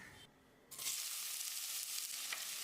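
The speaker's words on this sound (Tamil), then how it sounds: "கொஞ்சமாக கருவேப்பிலையை சேர்த்து வெங்காயத்தை பொன்னிறமாக வதக்கிடலாம்." Onions fry in two tablespoons of coconut oil inside a pressure cooker, with curry leaves added for a chicken curry. A steady, close hiss of sizzling begins after a short, quieter start and then holds throughout, with no talking.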